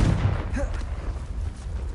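Confringo spell blast in Hogwarts Legacy, a single sharp burst at the start that booms and rumbles low for a moment before fading into game noise.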